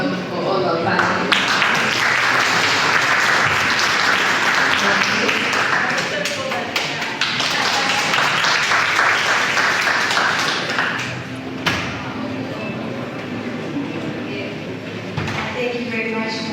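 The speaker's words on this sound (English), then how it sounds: "Last round of applause for all our panelists" An audience at the 12th Tanzania Health Summit gives a round of applause for the panelists, a steady wash of clapping in a hall that fades and picks up again, with talk underneath.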